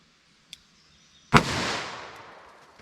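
A single sharp .357 Magnum handgun shot from Federal Power-Shok 180 grain ammunition, loud and close, with a booming decay rolling off outdoors among trees after a faint click beforehand.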